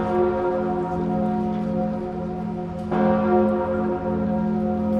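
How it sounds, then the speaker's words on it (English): The bells of Notre Dame Cathedral in Paris ring with sustained, layered tolling, their overlapping tones hanging in a steady resonant wash, with a fresh strike roughly midway through. "The bells of Notre Dame in Paris are ringing again."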